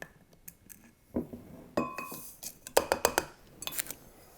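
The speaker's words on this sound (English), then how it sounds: "you just want to mix that powdered pectin in evenly with the sugar. So we're just going to stir that up." A utensil stirs powdered pectin into sugar in a bowl, making clinking and scraping taps against the dish in irregular clusters, the loudest run of rapid clinks in the middle.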